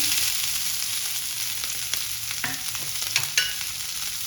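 Cabbage, mustard seeds and cumin are stirred in a hot frying pan, giving a steady low sizzle with a few scraping clicks from the spoon near the end, close and without talk.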